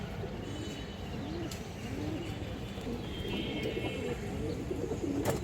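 Pigeons at a pigeon farm coo softly and repeatedly in the distance over a constant low ambient rumble, with occasional faint chirps.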